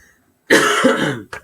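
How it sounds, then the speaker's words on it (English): One harsh, close cough followed by a brief throaty catch, loud against near silence. "Sorry, had to cough."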